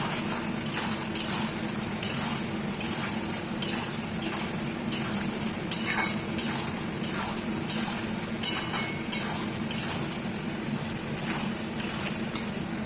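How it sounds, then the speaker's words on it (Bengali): Spice masala fries in a pan, a low steady sizzle under irregular spoon scrapes and light metallic clinks against the pan, close by and without speech. "তো এরপর এর মধ্যে মশলাটাকে একটু ভালো করে কষিয়ে নেবো।"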